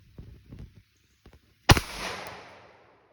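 A single sharp gunshot cracks loudly at an outdoor range as a round is fired at a target, its report decaying over about a second, preceded by faint handling noises.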